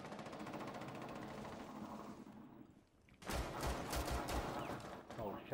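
Gunfire in Rainbow Six Siege, a quick rattling burst of loud close shots after a stretch of quieter in-game noise, with players talking.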